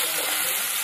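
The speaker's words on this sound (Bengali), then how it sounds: "এবার দিয়ে দেবো চারটে বড় সাইজের পেঁয়াজ কুচানো।" Chopped onions hitting hot oil in a pan, a loud, steady, close sizzle that holds its hiss evenly for the whole brief moment.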